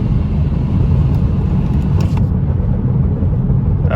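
A BMW B58 engine fitted with a catless downpipe rumbles loudly and steadily from inside the car as the driver downshifts, a deep continuous drone with no talk over it.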